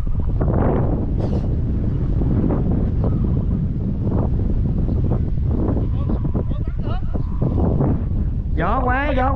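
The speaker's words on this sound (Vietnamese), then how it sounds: "Gió quá." Strong wind buffets the microphone outdoors during a slingshot hunt, a constant low rumble running the whole time, with people talking over it and a brief whistling tone near the end.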